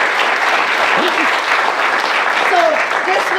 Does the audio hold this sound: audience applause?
yes